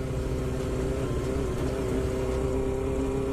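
A motorcycle rides past on a wet road at bike night, its engine a steady loud drone with a harmonic whine and broadband tire hiss from the wet surface throughout.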